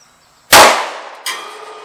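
SCCY CPX2 pistol fired at a steel silhouette target at 20 yards: a sharp, loud shot with a ringing metallic ping, followed about three-quarters of a second later by a second, softer report and clang.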